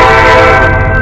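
A passing train sounds its horn on a railfanning outing, a loud sustained chord held steadily over the rumble of the rail cars, close and unbroken, with no talking.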